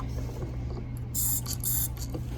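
Short aerosol bursts sprayed into a Wheel Horse tractor engine, two distinct hissing spurts over a low steady hum, close and fairly loud.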